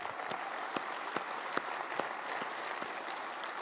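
Applause from a luncheon audience, steady clapping with a few sharper claps standing out, no voices over it.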